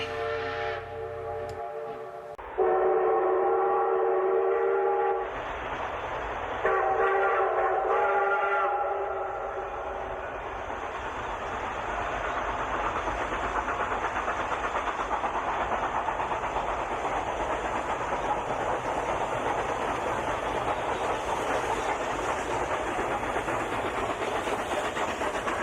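Steam train at a model railroad steam-up event blows a short whistle, then runs on with a steady, continuous rolling rumble and hiss that holds close and loud throughout, with no talking.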